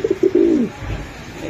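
A large-bodied racing pigeon gives one close, clear coo, a few short throaty notes rising into a longer rolling call, then falls quiet.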